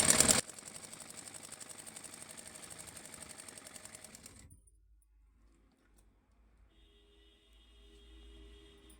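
Sewing machine stitching darts on a belt blouse, rattling in a rapid, even mechanical rhythm for about four seconds up close before stopping, leaving near silence.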